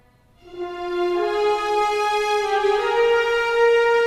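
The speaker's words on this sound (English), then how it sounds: "I've got the first violins from LA scoring strings," First violins from the LA Scoring Strings library double a horn line, entering after a brief quiet start and holding a sustained, steady, close melodic line alone for the rest of the passage.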